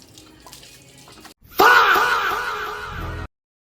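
A tap suddenly gushes, running loud and steady for under two seconds while a dog's muddy paws are washed indoors, then cuts off abruptly after a quieter stretch of room sound.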